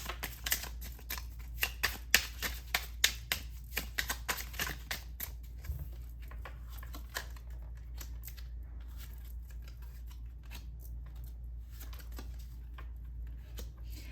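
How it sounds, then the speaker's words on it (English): Tarot cards being shuffled and pulled from the deck, a quick run of crisp riffling snaps up close, then thinning to sparse light card slides and taps in a quiet room. "So I'm gonna pull out a few more tarot cards."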